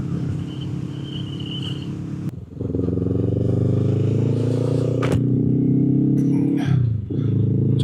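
A motorcycle cruising on the road with steady engine drone and heavy wind rumble, rising in pitch as it accelerates and easing briefly around a gear change.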